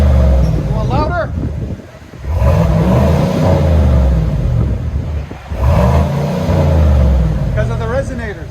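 A 2019 GMC Sierra X31 pickup with a 5.3L V8 and dual Flowmaster Super 10 exhaust revving hard twice, each loud, deep roar rising then falling back to a rumbling idle, with voices talking in between.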